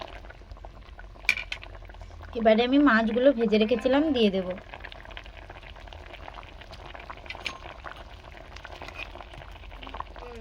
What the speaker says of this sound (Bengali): দেখো ঝোল ফুটছে, কত সুন্দর কালার হয়েছে